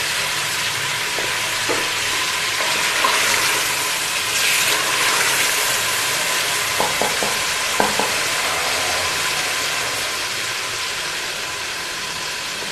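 Kofta balls sit simmering in a curry masala that has released its oil, over low heat, making a steady soft sizzle and bubbling with a few faint clinks of utensils, and no voices.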